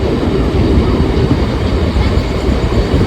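A four-coach Rajmahal passenger train rolls along steadily, its dense, loud rumble of wheels and carriages filling the moment without a break and with no voices.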